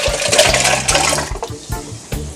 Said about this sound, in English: So you're gonna add some water. And you're gonna add this to the blender.